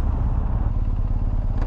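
A BMW R1250 GS Adventure motorcycle pulls away in Burford in the Cotswolds, its boxer engine giving a close, loud, steady low throb with rapid pulsing exhaust beats and no speech.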